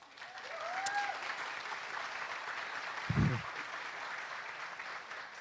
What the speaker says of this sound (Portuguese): Vamos dar um aplauso aí pelo nosso teólogo